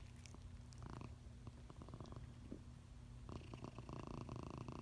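A cat purrs close and steady in a low continuous rumble, with a few soft louder bursts and light rustling over almost five seconds.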